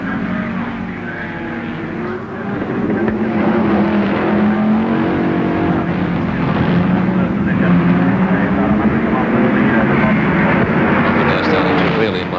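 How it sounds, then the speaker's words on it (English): Improved production touring cars from 1973 race on a wet track at Warwick Farm, engines roaring loudly and continuously with shifting pitch as they accelerate, accompanied by a commentator talking over the noise. "Make quite an impressive motor racing sort of noise"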